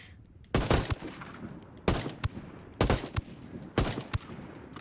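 AC-AR rifle firing in Ghost Recon Wildlands, several sharp bursts of close, loud shots in quick rhythmic groups with brief pauses between them.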